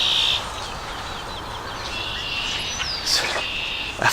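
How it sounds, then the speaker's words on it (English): Red-winged blackbirds sing outdoors against a soft background hiss, with a few thin, buzzy trilling calls and a sharper call near the end. "Red-winged blackbirds are singing."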